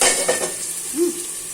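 Spice paste for bhola fish curry frying in a pan, a close hissing sizzle with a faint utensil scrape, brief and steady with no voices.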